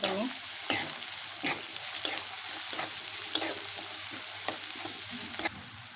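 Turmeric, homemade black masala and coriander roast in hot oil with fried tomato for a kurdai-crumb vegetable dish, giving a steady close sizzle broken by several sharp spatula scrapes and stirs.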